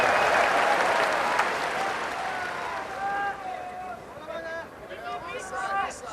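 An arena crowd at a Pride FC mixed martial arts event applauds and cheers in a loud, dense roar that slowly thins. An announcer's voice comes through toward the end.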